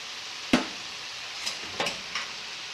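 Butter sizzles in a pan of lemon butter wine sauce, a faint steady sizzle broken by a few soft stirring or spattering bursts.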